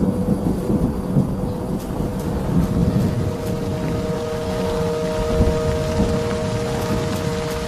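Steady rain falls during a rainy-season thunderstorm on the wildebeest migration plains, a dense, constant hiss with a low rumbling undertone.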